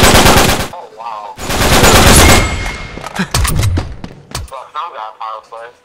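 Dense automatic gunfire in the online multiplayer video game Uncharted 3, loud sustained bursts separated by a brief gap, then scattered single shots while voices talk over the game audio.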